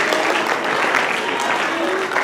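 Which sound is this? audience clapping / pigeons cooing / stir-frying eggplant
audience clapping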